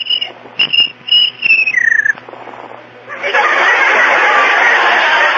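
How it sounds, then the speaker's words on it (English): An old-time radio comedy sound effect of a cricket chirping in short, shrill bursts, with a falling squeal before it gives way to a sustained hissing chirr. "Please, Mr. Cricket, George has work to do. Won't you please be quiet?"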